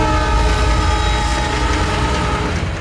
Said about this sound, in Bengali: স্যার, ট্রেন সুড়ঙ্গ দিয়ে যাচ্ছিল,